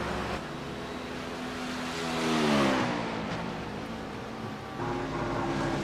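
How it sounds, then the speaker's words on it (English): A yellow V-Apex prototype race car passes in a simulated endurance race at Road Atlanta, its engine note climbing and then dropping in pitch as it goes by, amid the steady roar of other race engines; no speech. "Kevin Linden's V-Apex Yellow prototype works its way past"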